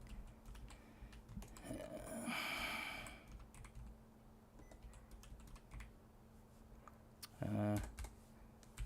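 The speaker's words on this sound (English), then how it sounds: "I need to type harder" Computer keyboard typing while editing Emacs Lisp code, quiet clusters of key taps with a brief louder flurry of clacks, and someone talking softly in between.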